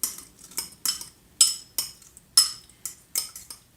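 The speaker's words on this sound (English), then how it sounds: "I'm just going to mix that in." A utensil mixes ricotta cheese with egg for matzah lasagna in a bowl, making a steady series of bright clinks and scrapes at about two per second, close and alone without talk.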